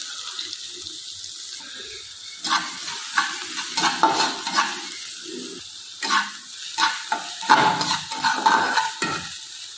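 Chopped onion frying in hot mustard oil in a pan, with a steady background sizzle broken by repeated close clattering scrapes as it is stirred, and no talk.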